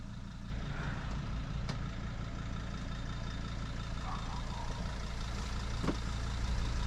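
Mercedes truck idling, a steady low diesel rumble close by that continues throughout with a few faint clicks and knocks over it.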